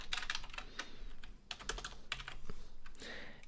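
Keys clatter steadily on a computer keyboard as code is typed, a quick irregular run of close, crisp clicks with brief pauses between bursts.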